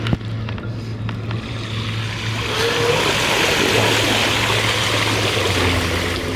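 A 48V folding fat-tire e-bike rides through a stretch of water, making a steady, loud splashing and spraying rush that builds and holds for several seconds over a low hum.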